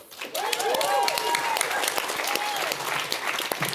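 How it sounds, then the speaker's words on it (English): A crowd at a justice solidarity gathering applauds loudly and continuously, dense clapping close by with a few brief tonal squeals mixed in. "Another round of applause for Daryl."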